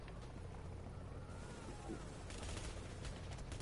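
Dense bursts of video game gunfire crackle continuously, with rapid overlapping shots and heavier volleys toward the end, under faint voices.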